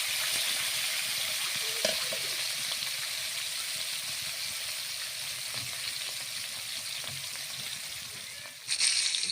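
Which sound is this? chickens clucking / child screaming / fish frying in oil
fish frying in oil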